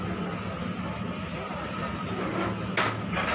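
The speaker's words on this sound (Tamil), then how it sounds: "போட் வந்துடுச்சு. பின்னாடியே இன்னொரு போட்டும் வருது." Tourist boat engine pulling in to the Kanyakumari jetty, a steady broadband rumble filling the whole stretch with a brief brighter burst near the end, with a second boat following behind.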